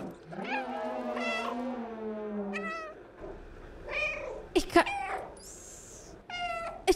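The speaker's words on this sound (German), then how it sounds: "Ich kann einfach miauen in der Cutscene." A cat character meows repeatedly in a cutscene of the video game Stray, a long drawn-out call followed by several shorter, clear, close mewls separated by brief pauses.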